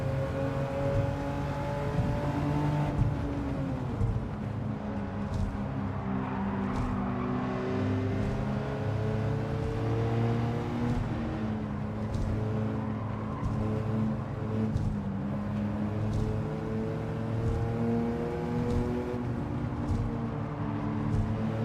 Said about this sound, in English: This is a nice sounding car.